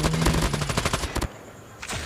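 AK-117 rapid automatic fire in Call of Duty Mobile, a fast loud burst of shots lasting about a second, followed by a short pause and a faint later sound.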